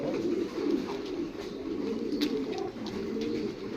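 Lahori pigeon cooing steadily in low, soft rolling phrases, close by, over a quiet background with a few faint clicks.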